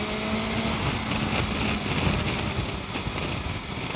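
A four-cylinder BMW motorcycle engine runs steadily nearby with a smooth, dense, buzzing drone and slight revving fluctuations, loud throughout.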